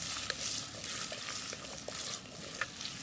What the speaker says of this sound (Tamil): கடுகு, சின்ன சீரகம், கருவேப்பிலை, வெங்காயம் இதை நல்லா வதக்கிக்கணும்